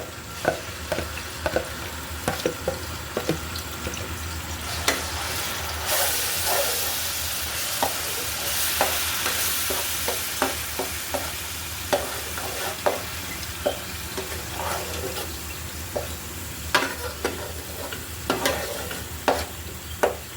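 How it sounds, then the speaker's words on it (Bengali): Leftover marinade spice paste sizzles in hot oil for an aair fish curry, with a steady frying hiss and frequent sharp scraping strokes of a spatula against the pan throughout, close and continuous, with no talking. "বাকি মশলাটা দিয়ে দিচ্ছি"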